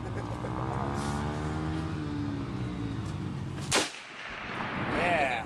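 .50 caliber rifle fired on an outdoor range at a Texas boot camp: one sharp, loud broadband crack at mid-clip over a steady rumbling background, with a roaring low-end decay and noise after the blast.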